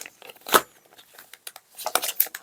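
A small plastic bag crinkles and rustles while board game pieces are handled during an unboxing, with a sharp crackle early on and a cluster of busier rustling toward the end, close and fairly quiet.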